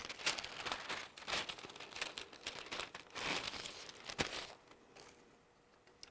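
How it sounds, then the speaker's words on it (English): Wax paper crinkles and crackles steadily as it is unfolded and handled up close for a water experiment, with dense rustling bursts that ease off toward the end. "And for this one, we're going to need a piece of wax paper."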